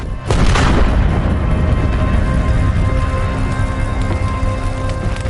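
A ship's deck cannon catches fire and explodes, igniting gunpowder: a loud, sudden boom followed by a sustained, rumbling roar of explosive noise with crackling debris, no voices.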